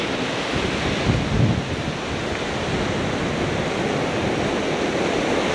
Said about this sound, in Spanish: aquí hay olitas, mira.